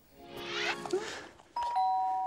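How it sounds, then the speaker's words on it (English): A doorbell chimes in a home kitchen with a clear two-tone ding-dong near the end, after a stretch of clattering and busy sounds. "why does the doorbell always go when I'm doing the washing up?"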